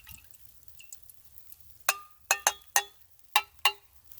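Glenfiddich 12 whiskey poured from the bottle into a metal canteen cup at an ice storm campsite: after a quiet start come about six sharp, close liquid glugs and splashes in an uneven rhythm.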